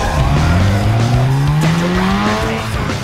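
A street race car in Need for Speed: Underground 2 screams loudly with engine pitch climbing through the gears, layered with tire squeal and skidding, close and continuous with no talk.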